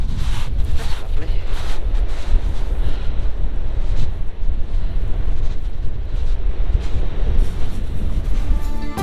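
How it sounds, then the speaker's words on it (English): Strong wind roars and buffets the microphone on the shingle beach at Cromer near the pier, a loud, continuous gusting rumble with no letup. "I'm going to speak up just in case the wind's a little bit loud"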